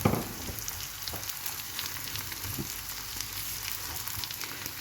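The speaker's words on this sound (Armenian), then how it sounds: "այս պահին ավելացնում եմ սպանախը, խառնում եմ" Close, steady sizzling of spinach frying in a pan, with a few soft scrapes and knocks from stirring.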